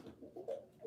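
A raven calls outdoors, a few faint, low croaking notes heard from a distance with no talk over them.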